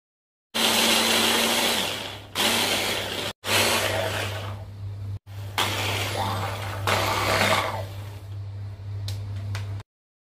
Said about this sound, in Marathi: आता हे सर्व अगदी बारीक चॉप करून घ्या।